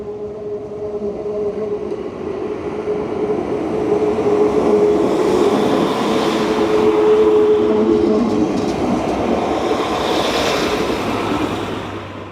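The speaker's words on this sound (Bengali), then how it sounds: "এখানে একটা ট্রেন রয়েছে, ট্রেন না বলে ট্রাম বলাই ভালো" A tourist tram near Hamlet's castle in Helsingør rumbles closer, its low roar swelling and then easing, with a faint squeal of wheels over the steady noise and nobody speaking.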